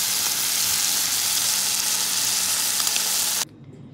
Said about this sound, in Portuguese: vamos dar uma leve fritadinha aqui no presunto e no queijo